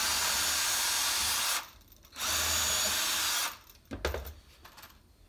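A power drill bores a pilot hole into pallet wood in two loud bursts: a steady whir for about a second and a half, a pause, another long run, then brief stuttering starts and stops as the bit finishes, with no talking.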